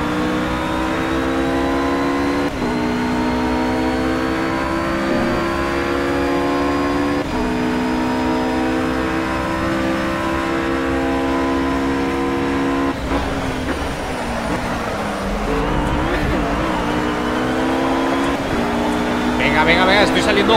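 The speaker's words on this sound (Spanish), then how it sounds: "Estoy apretando a tope, el coche no tiene potencia para adelantar al Audi." Porsche 911 GT3 race car in Project Cars at Monza, engine droning at full throttle with steady harmonic whine and gear-shift breaks, loud and continuous while someone talks over it.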